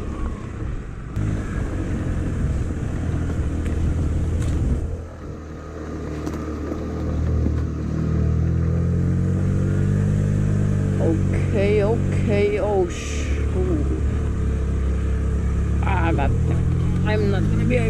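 A motorbike engine drones and revs unevenly while struggling uphill on slippery snow, loud and close. A rider's voice is heard over it in places.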